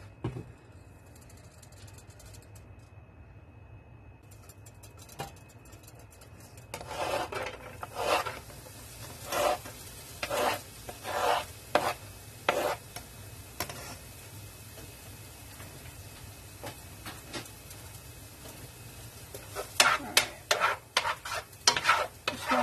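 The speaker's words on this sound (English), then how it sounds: "I'm going to saute my onions for a little bit before I add in the ground beef" Onions saute in a little olive oil before ground beef goes in: a soft, quiet sizzle at first, then a run of rasping spatula scrapes and stirs against the pan, close and uneven, alone.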